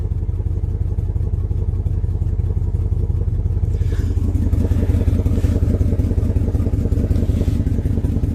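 A 2004 Chevrolet Silverado pickup engine idles up close with a misfire, a loud, steady rumble with an uneven, stumbling beat, running alone without talk.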